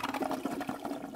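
A toilet flushes in Gas Station Simulator, a brief rushing gurgle of water that fills the whole moment at moderate volume, with no talking over it.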